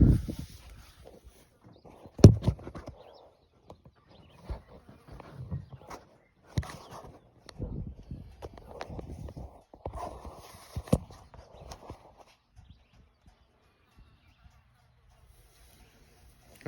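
A small herd of plain beef cows on a morning move passes through a farm gate, giving scattered, irregular hoof thuds and shuffles with bursts of clatter, while someone talks intermittently nearby.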